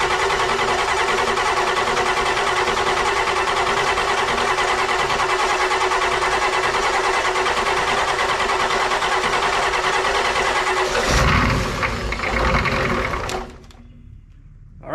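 An OBS Ford F350 diesel engine cranks to start, without glow plugs and after its injectors were tightened. A loud, steady, rhythmic chugging of the starter runs for about 13 seconds, then a brief rough burst before it cuts off.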